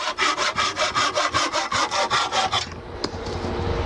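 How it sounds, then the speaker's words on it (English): A hand saw cuts through wood in a workshop with a dozen quick, rhythmic back-and-forth strokes close up, then stops, leaving quiet room noise and a faint click. "We'll wait and see what the saw cut looks like."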